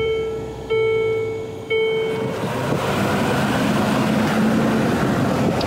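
Used SUV engine revs up with a rising roar as it accelerates on a test drive, heard from inside the cabin with road and wind noise building to a steady drone; no talk.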